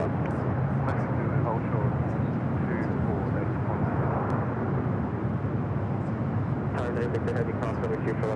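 Airliners taxi and idle at LAX, including a Lufthansa Boeing 747 and a Korean Air 747, as a steady broad jet roar fills the air throughout while a person talks over it and a radio voice cuts in briefly.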